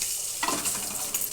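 Seasoning frying in hot oil for a pesarattu chutney, a steady close hiss with a brief louder crackle and faint stirring, no voices.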